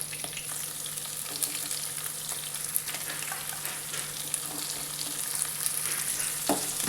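Chopped big onions fry in hot oil in a pan for rava upma, a steady close crackling sizzle with light stirring scrapes throughout.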